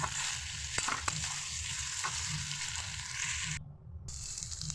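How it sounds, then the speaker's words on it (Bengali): Sliced onions fry in a pan with a soft, constant sizzle and occasional scraping stirs, quiet and close, with a brief drop in the sound near the end. "আমি ভালো করে পেঁয়াজটা ভেজে নিচ্ছি।"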